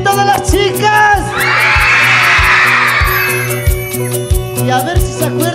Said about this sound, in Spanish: Y el grito de las chicas.